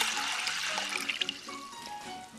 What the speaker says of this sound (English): I will add 7½ cups of water.